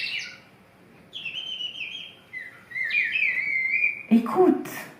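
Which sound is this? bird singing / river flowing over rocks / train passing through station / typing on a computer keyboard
bird singing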